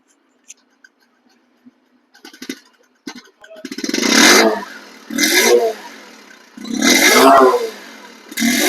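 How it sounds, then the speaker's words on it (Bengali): A Bajaj Discover 125 motorcycle in super fresh condition is kicked and started after a few faint clicks, then revved loudly three times in close bursts, settling to idle between each. "এই বাইকটি সাউন্ড আপনারা স্টার্ট অবস্থায় শুনুন"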